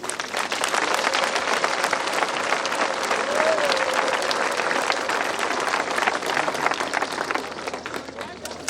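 A large stadium crowd applauds and cheers in a sustained, dense roar of clapping to welcome the president of Burundi at Stade Intwari, loud and steady throughout.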